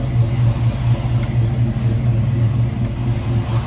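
A 1968 Ford Mustang coupe engine idles steadily with a low, even rumble, close and loud, its pulse holding level without fluctuation and with no voices.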